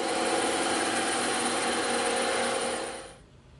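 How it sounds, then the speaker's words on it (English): A power tool cutting the ends off a piece of EVA foam, a loud, steady high-pitched whirring buzz held for about three seconds before winding down and fading quickly. "we're going to cut these two ends off"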